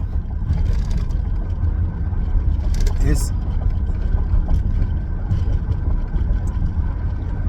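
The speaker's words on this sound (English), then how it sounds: "I'm driving, it's noisy" Interior driving noise of a moving car, a loud steady low rumble with road and wind roar throughout and a brief rustle partway; a voice is faintly present beneath.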